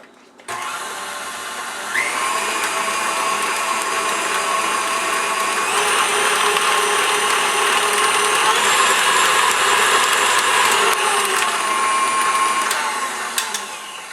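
Electric mixer beating half a teaspoon of vanilla extract into bread batter, a loud steady whir running nearly the whole time with slight shifts in pitch as the beaters work.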